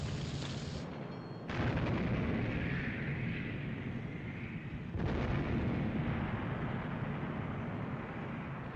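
Warship gun turrets firing in a 1950s naval battle film: two heavy booms, each hitting suddenly and then holding as a long, loud rumble, with no voices.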